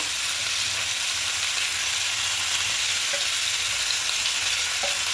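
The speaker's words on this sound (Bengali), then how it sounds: "হালকা দেখুন ভাজা ভাজা করে দিচ্ছি" Soybean chunks and vegetables fry with spices for a vegetarian dish, a dense, even sizzle up close with a constant stirring hiss and a couple of faint clinks, no talking.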